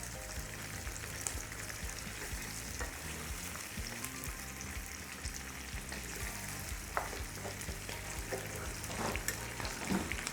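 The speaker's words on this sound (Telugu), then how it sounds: "సో ఇలా ఉల్లిపాయలు మంచిగా వేగాలి" Large-cut onions fry in oil in a pan with a continuous, even sizzle and scattered small crackles, with no voices over it.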